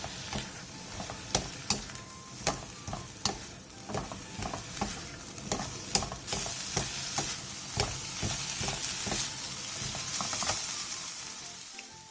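Eggplant stir-fries with half a spoon of oyster sauce in a pan, a steady close sizzle broken by frequent sharp scrapes and clacks of a spatula turning the pieces, with no voices.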